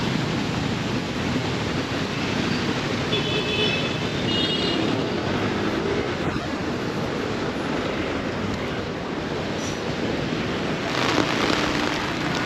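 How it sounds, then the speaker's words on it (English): Rain falls steadily as a dense, constant hiss in an old-town street in Phnom Penh, Cambodia, broad and unbroken throughout with no talking. "Well, the rain's picking up quite a bit now."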